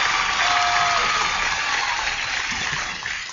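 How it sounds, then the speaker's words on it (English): Large crowd cheers and applauds in a continuous, washed-out roar that stays loud and even throughout before easing slightly at the end. "The crowd is going fucking insane."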